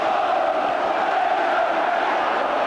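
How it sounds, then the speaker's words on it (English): A large football stadium crowd at Villa Park, Middlesbrough versus Aston Villa in 1990 extra time, roars and chants in a steady, loud wall of massed voices that holds without a break. "And the crowd now in tremendous voice."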